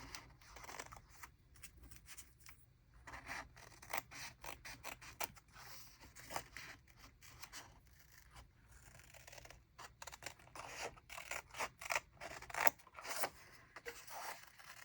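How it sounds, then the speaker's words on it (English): Scissors cut through long strips of paper for a bullet journal page, a close series of soft snips and scraping slides of the blades with short pauses between cuts, fairly quiet with no talking. "So on long pieces like this, it is way easier if you have bigger scissors."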